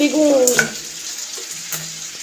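Potatoes frying in a pan in a home kitchen, giving a soft steady sizzle with a brief stir or clatter early on, heard close and without talk.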